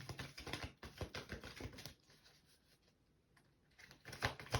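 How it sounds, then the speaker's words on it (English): A deck of Sacred Rebels oracle cards is shuffled by hand in quick, crisp riffling bursts. There is a quiet pause of about two seconds before another brisk flurry of shuffling, all close and fairly soft. "get a real shuffle going"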